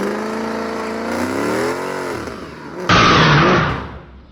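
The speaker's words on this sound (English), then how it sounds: "So what you gonna wanna do is start the burnout." Car engine revving during a burnout, a loud close drone climbing and falling in pitch, then a sudden harsh broadband roar of spinning tires that fades out.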